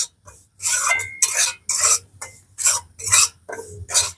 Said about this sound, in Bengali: একটুখানি এইভাবে নাড়াচাড়া করে নিতে হবে সুজিটাকে